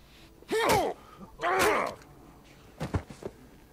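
Man groaning and gasping in the Days Gone video game, two long strained vocal groans close by followed by short ragged breaths, no talk over them.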